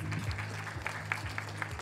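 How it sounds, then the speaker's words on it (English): Audience applause at a seller bootcamp event, a steady wash of clapping from a sizable crowd at moderate level, with a few people talking underneath. "Can we all give a round of applause to Singwei, please?"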